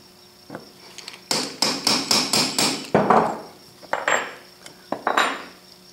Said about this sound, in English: I just made up a scrap of steel here to buck that rivet like that, and a center punch